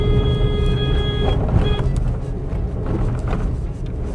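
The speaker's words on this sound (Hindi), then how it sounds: "अब ऑफ रोडिंग पैच पर आए हैं, एक बार कैसा सस्पेंशन सेटअप वो देख लेते हैं।" Maruti S-Presso AGS hatchback with 14-inch tyres rolling over a rough off-road patch, a steady broad engine and road rumble from inside the cabin with a faint whining tone early on, continuous and moderately loud.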